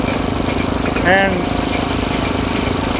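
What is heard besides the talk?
1913 miniature hay baler with Briggs and Stratton engine running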